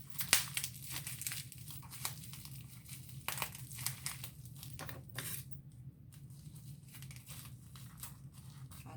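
A sealed mail package wrapped in bubble wrap is being opened, giving quiet close crinkling and rustling in irregular bursts with a few sharper snaps, over a low steady background hum.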